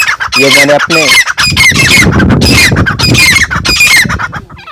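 Dakhni teetar (partridge) chicks, a male and female pair, giving loud repeated squawking calls close by in quick bursts, with someone talking over them.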